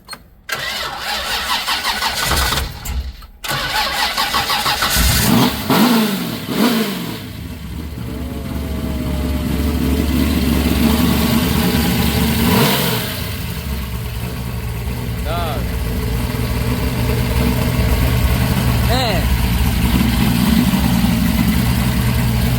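A 1969 Chevy Nova with a big block 427 V8 cranks and fires, then settles into a loud, lumpy idle with occasional revs, heard up close while people talk nearby.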